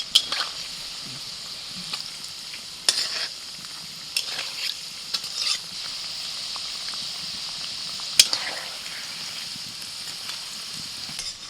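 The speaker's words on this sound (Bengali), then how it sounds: "মোটামুটি তেলটা গরম করে তারপর ছাড়বে এবার আঁচটা কমিয়ে আস্তে আস্তে করে ভাজতে হবে" Rohu fish fingers fry slowly in hot oil over a lowered flame, giving a steady close hiss and sizzle with scattered pops and crackles throughout, and no talk.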